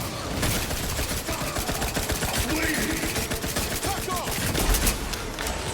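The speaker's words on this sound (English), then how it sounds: "I'm shooting even quicker now." Rapid, dense gunfire from a gun in The Outer Worlds 2 video game, a steady loud stream of shots across the whole stretch.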